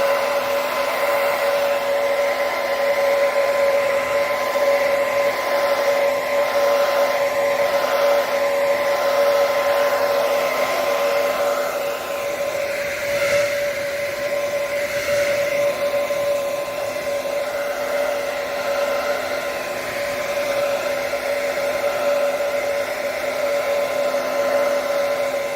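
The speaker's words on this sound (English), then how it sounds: "You take a normal hair dryer, you blow it on the actual surface" A hair dryer drying scratch sealer on an Adidas Ultraboost sneaker midsole blows continuously, a steady loud whirring roar with a high motor whine that holds unchanged throughout.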